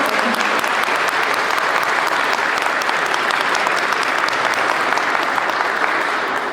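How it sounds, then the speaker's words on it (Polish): Audience applause for the mayor and town council at a municipal awards event, a thick continuous roar of many hands clapping, steady and loud from start to finish with no voices over it. "poproszę o brawa dla Waszego burmistrza i dla całej Rady"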